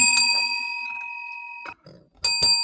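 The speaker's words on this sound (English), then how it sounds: "Hit the bell." A bell struck a couple of times, giving bright ringing tones with a sustained decay, followed later by two more sharp metallic hits, fairly loud and close with no talk.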